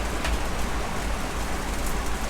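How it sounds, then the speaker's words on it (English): Pouring rain on a boat anchored in a bay, a dense, even roar of falling water with no pauses and no voices. "now it's pouring rain"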